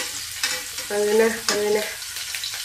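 Petai stink beans frying and being stirred in hot oil, a close sizzle with scraping stirs, while a voice speaks briefly over the cooking.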